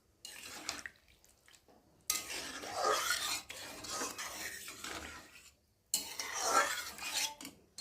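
Spices stuck to the sides of a wok are scraped down with a metal utensil while a taro curry cooks with added water. Gritty metallic scraping comes in several separated bursts, close up, with no talking.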